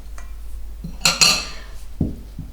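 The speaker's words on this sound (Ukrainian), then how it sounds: "Я всипаю ось таку повну чайну ложечку порошку до печива і з борошном перемішую" Spoon stirring baking powder into flour in a bowl for a grated jam pie dough, a few light scrapes followed by sharper clinks against the bowl, close and alone.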